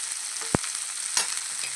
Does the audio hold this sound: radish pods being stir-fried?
yes